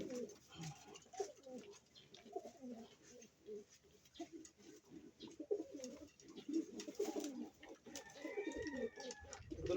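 Pigeons, including one imported bird, coo softly and repeatedly in low throaty bursts, several birds overlapping at close range, with faint chirps and light rustling in the background.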